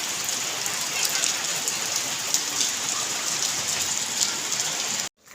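A steady, close downpour of heavy rain hisses and patters on surfaces throughout, with occasional sharper drops, then cuts off abruptly near the end.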